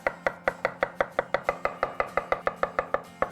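A knife chops mushrooms lengthwise on a cutting board with about twenty crisp, evenly spaced strokes in a fast steady rhythm, close up and with nobody talking.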